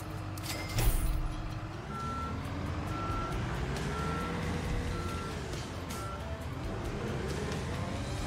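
A flatbed truck with a crane reverses in the video game Construction Simulator. Its backup alarm beeps steadily about once a second over a low, rumbling idle engine, after a brief clunk at the start.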